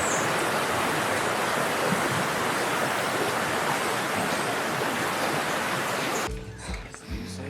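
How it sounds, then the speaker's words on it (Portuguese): Flowing water at Kawasan Falls waterfall, a steady loud roar of rushing water that fills the scene and then cuts to quieter ambience near the end. "Escuta a paz desse lugar, só o barulhinho da água."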